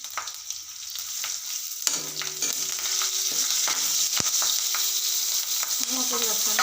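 Green chillies, curry leaves, cumin and asafoetida sizzling in hot oil for a potato curry, a loud crackling hiss that builds and holds steady with scattered pops and the clink of a spoon.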